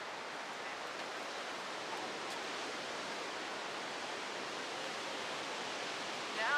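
Steady, broadband rush of ocean surf breaking at a beach, an even wash of noise with no distinct individual waves and no voices.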